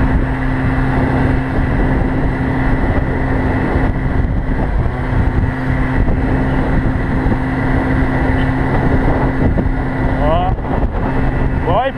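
An MBK Booster 50 scooter with a suspected worn clutch or rollers climbs a hill, its small two-stroke engine droning steadily and loudly under wind buffeting, with someone talking over it.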